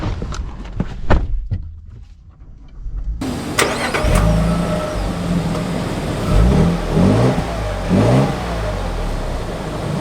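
A 2024 Lexus GX550 engine starts after a few close clicks and knocks, then settles into a steady, loud idle broken by several rising revs. No one speaks.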